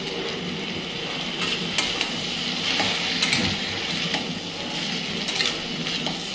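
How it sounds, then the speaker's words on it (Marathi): Vegetables, brinjal and drumstick pods among them, stirred and mixed in a hot pan with chutney, a steady sizzle under repeated scraping strokes of a spoon, close and continuous with no talking. "मिक्स करून घ्यायचं चांगल्या।"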